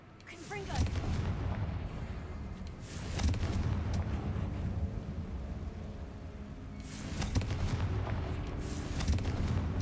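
A fire-blast spell in a Harry Potter video game lands as a deep, rumbling boom that swells and fades over a few seconds and then returns, heard fairly quietly beside faint talk.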